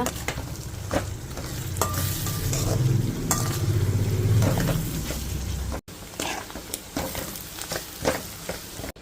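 Dried anchovies frying in a pan, with a steady loud sizzle under scraping stirring strokes, then a quieter stretch of crackling and intermittent utensil taps against the pan.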